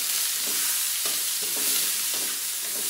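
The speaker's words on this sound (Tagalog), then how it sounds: "Kapag ako nagigisa, sinasabay ko na parehas yan. Sibuyas, bawang." Onion and garlic sautéing together in a pan, a close continuous frying sizzle broken by a few soft stirring scrapes, with no voices.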